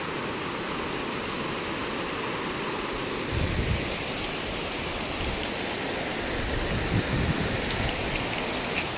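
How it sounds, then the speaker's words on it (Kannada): A continuous roar of rushing water from the Netravati River after rain fills the scene, dense and steady, growing slightly fuller partway through. "ಯಾವ ಥರ ನೀರು ಹರಿತಾ ಇದೆ ನೋಡಿ"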